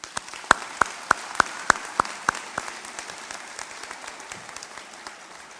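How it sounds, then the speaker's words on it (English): Applause for the graduates at an adult learning center graduation ceremony, opening with several sharp, close handclaps at a steady rhythm that give way to softer, scattered clapping across the room before fading out. "So let's give them a round of applause."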